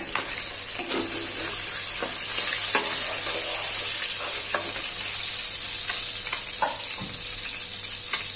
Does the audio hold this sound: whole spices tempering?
yes